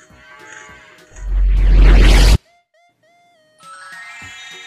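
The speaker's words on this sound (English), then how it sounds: "Cow, cow." A cow gives a single loud, drawn-out moo, set between soft chiming tones and a brief quiet gap.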